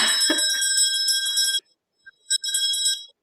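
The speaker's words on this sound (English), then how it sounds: "I must ring the bell." A bright bell rings loudly and steadily, falls silent after about a second and a half, then rings again after two short taps.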